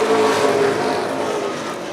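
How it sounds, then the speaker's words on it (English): Pro stock race cars run side by side on a track, their engines a steady, loud, continuous roar held at full throttle without a break. "Chubbuck racing side by side with Douglas for the 4th position"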